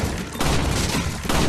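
Dense, continuous gunfire from the shooting range in the VR game Resident Evil 4 VR, rapid overlapping shots forming a loud, sustained volley with no talking.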